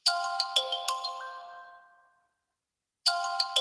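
A phone in the Duskwood game rings with a bright chiming melody that decays into silence, then starts again after about a second, loud and close with no voices.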